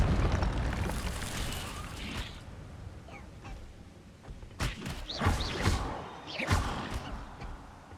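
Incendio fire spell cast in Hogwarts Legacy, a burst of fiery whooshing and crackling that fades, followed by several sharp bursts and thuds with a swelling magical hiss, moderately loud with no talk.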